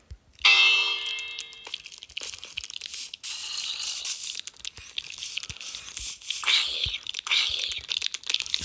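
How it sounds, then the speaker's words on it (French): Bells ringing in the Minecraft video game, a bright ringing clang at the start followed by scattered clinks and crunchy game sounds, moderately loud and close. "j'ai envie de sonner les cloches"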